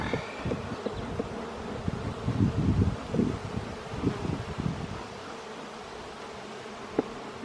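Honeybees buzz around an opened beehive during an inspection, a steady close hum with scattered louder passes near the microphone and light rustling, easing off toward the end.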